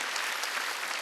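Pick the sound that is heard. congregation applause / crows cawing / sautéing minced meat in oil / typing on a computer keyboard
congregation applause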